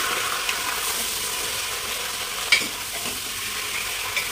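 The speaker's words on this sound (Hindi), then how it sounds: "अब मैं अच्छे से चलाऊंगी" Potato and aubergine curry stirred in a frying pan, a steady close sizzle with a few light scraping clicks from the spoon, no voices.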